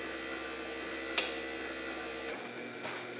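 A hidden-headlight wiper motor on a 1970-81 Camaro runs at its high-speed setting, giving a steady electrical hum broken by a couple of faint clicks before it cuts off.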